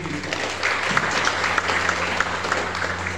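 Dense, steady applause from an audience of women at an outreach session in Central Papua, continuous and fairly loud throughout with no voices over it.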